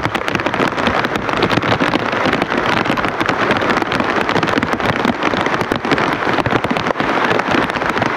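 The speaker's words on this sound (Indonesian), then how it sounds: "Hujannya, masalahnya tetap deres ya" Heavy rain pours down steadily during flooding, a dense continuous hiss of drops pattering on surfaces, loud and close, with no voices heard.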